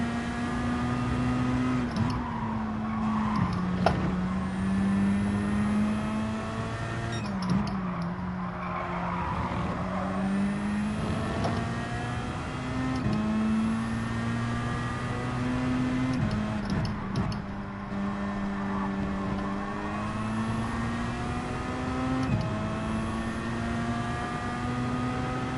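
A race car engine in Gran Turismo 7 drones and revs steadily throughout, its pitch rising and dipping with gear changes, while tire squeal and skidding noise run beneath it.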